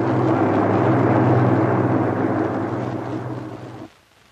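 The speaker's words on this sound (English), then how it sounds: "what can't be killed is muffled until the roar of the engines is hushed to a purr" A B-17 bomber's engines roar in a loud, steady, rumbling drone with a constant low hum, holding for several seconds before cutting off abruptly.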